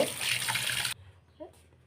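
Fresh river fish are rinsed in water, a close splashing and running-water rush lasting about a second before cutting off, followed by a faint short clatter.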